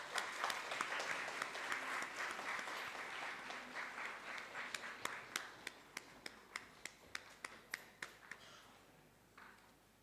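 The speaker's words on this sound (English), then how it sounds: "Give a big round of applause to" An audience applauds after a memento presentation at a university event. The crowd clapping is moderate and thins out into a handful of distinct, spaced claps near the end.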